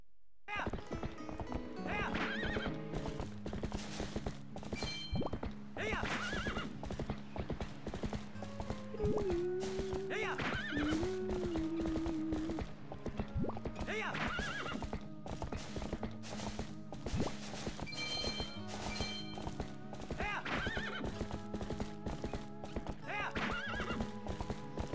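Epona the horse galloping in a Zelda video game, quick repeated hoofbeats with several loud whinnies spaced through the stretch, layered over steady game music and occasional talking from a man.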